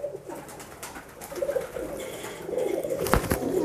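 Soft dove-like cooing from a bird, likely a pigeon, repeating a few low notes against a noisy background with some brief higher chirps near the end.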